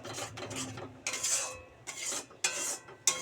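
Spoon scraping and rubbing against a pan while spice paste is stirred and sautéed, several rasping strokes in short bursts with brief pauses, close and moderately quiet.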